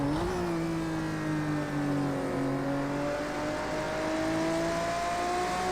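A race car engine in the PS4 racing game Project Cars 2 drones steadily, its pitch rising and settling as the car accelerates through a stretch, loud and close with no talk.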